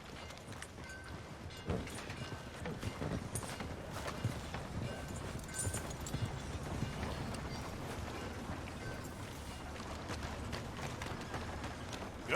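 Hooves of a horse in Red Dead Redemption 2 clip-clop steadily at a walking pace on a town street, fairly quiet among ambient background noise, with no talking.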